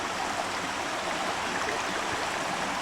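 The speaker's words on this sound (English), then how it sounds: "There's a flood here today, and Mom and Merlisa were trapped there" A flooded river rushes past in a continuous, churning wash of water, fairly faint and steady, with no voices over it.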